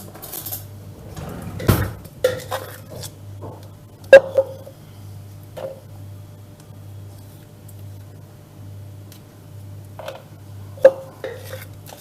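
Metal spoon scraping and clinking against a bowl while spreading chilled cream for a creamless trileçe cake, a few sharp scrapes and taps scattered over a quiet background with a steady low hum.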